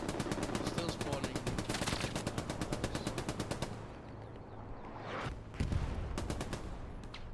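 Machine gun fire in the World War II video game Hell Let Loose, with rapid, evenly spaced bursts that are loud at first, then stop, followed by scattered single shots and a shorter later burst, under some talk.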